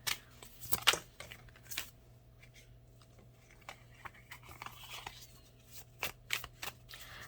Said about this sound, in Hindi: आपके सामने सारे कार्ड शफल होंगे